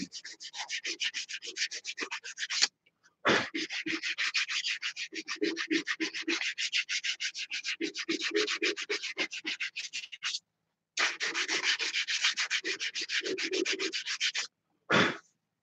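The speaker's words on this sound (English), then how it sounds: "let's do the 120 grit on this end" Wooden massage tool being hand-sanded with sandpaper, close rapid rhythmic back-and-forth rasping strokes in long runs broken by brief pauses, no speech.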